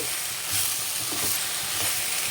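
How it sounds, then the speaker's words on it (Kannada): Bitter gourd roasts in a pan with a steady, loud sizzle and faint stirring scrapes, continuous and close, with no talking. "ಹಾಗಲಕಾಯಿ ರೋಸ್ಟ್ ಆಗ್ತಾ ಇರಲಿ"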